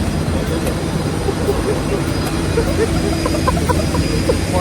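An IndiGo Airbus A320 on a Chennai to Delhi trip gives a loud, continuous jet engine roar with a dense steady rumble throughout, and faint voices may sit underneath.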